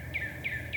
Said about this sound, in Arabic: كيف أصوات العصافير بعد المطر بتصير؟